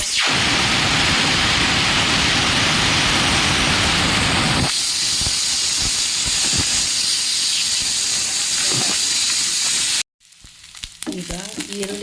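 Onions frying in a little oil in a non-stick pan make a loud dense sizzle that drops to a softer crackle partway through, then cuts off briefly before quieter sizzling resumes with stirring clicks.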